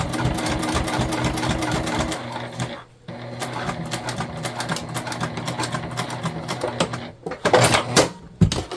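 A sewing machine stitches a pouch into a crossbody bag, its motor whirring steadily with a brief pause partway through and a few stop-start bursts near the end.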